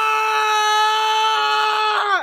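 A person screams one long, steady, high-pitched note for about two seconds before it drops off abruptly, loud and close with no other sound.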